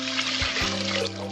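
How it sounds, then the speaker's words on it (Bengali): Half a litre of water poured into a pot of split pea lentils for Bengali chalta matar dal, a steady splashing pour with a low hollow tone running the whole time. "আমি হাফ লিটার মতো জল দিচ্ছি"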